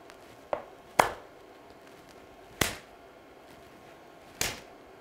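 Sharp hand claps ring out four times at uneven intervals, crisp and fairly close, each followed by a short room echo, while a wireless video system is demonstrated, with no talking.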